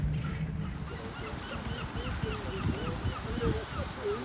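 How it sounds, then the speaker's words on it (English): Birds call repeatedly at a city lake park in Bergen, Norway, short chirps and whistles scattered over a steady outdoor hum, with goose-like honks and faint voices mixed in the background. "Lots of birds around."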